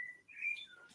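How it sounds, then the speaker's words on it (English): Birdsong drifting in from outdoors: a few clear, thin whistled chirps and tweets, fairly faint and distant-sounding, with no voices over them. "you can hear the ambient bird song from outside"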